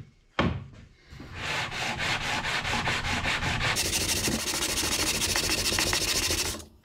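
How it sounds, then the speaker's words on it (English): A bass guitar fretboard on a converted 34-to-30-inch scale neck is sanded to a radius, a loud close rhythmic scraping of sandpaper on wood in quick back-and-forth strokes that grow more continuous before stopping. "now it's time to radius the fretboard and fret this thing"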